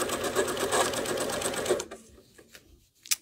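A domestic sewing machine runs steadily through free-motion quilting for most of the moment, then stops abruptly, leaving faint handling clicks and a sharp knock near the end.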